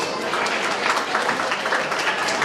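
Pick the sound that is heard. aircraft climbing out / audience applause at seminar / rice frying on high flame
audience applause at seminar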